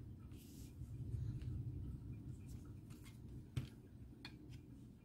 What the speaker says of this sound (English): hear the storm outside